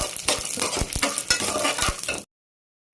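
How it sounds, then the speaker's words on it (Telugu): Tempering of chana dal, urad dal, peanuts, cashews, dried red chillies and curry leaves frying in oil, with sizzling under sharp metal spatula scrapes and clinks against the pan, stopping abruptly into silence. "శనగపప్పు, మినపప్పు, పల్లీలు, జీడిపప్పు, ఎండుమిరపకాయలు, కరివేపాకు అన్నీ చక్కగా ఫ్రై కానివ్వాలి."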